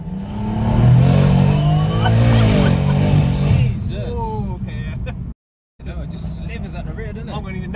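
A stock BMW M140i tuned to 550bhp roars on boost while sliding sideways, loud engine strain with tire squeal and rising revs, heard from inside the car with people talking over it.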